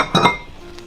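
Metal clinks twice, quick and bright, as a stand mixer's whisk attachment is swapped for the paddle, followed by a faint, quieter tap.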